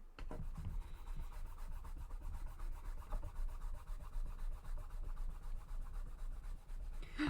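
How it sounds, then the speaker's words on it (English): An eraser rubs out a pencil sketch on paper with continuous, close scrubbing strokes in a quick back-and-forth rhythm, fairly quiet and with no voices. "Okay, now I'm just going to rub everything out."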